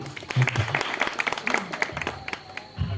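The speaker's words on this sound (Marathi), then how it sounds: "बाळाजी जाधव साहेबांसाठी जोरदार आपण टाळ्या वाजवायला हरकत नाही" Applause at a Dussehra Dandiya festival stage event, honouring a guest, with scattered claps and crowd noise mixed with speech throughout, ending in a burst of louder noise.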